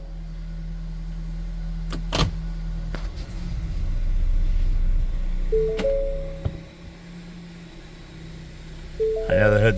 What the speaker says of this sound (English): I know the hood's ajar.